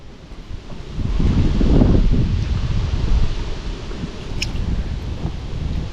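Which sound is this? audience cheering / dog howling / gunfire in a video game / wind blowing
wind blowing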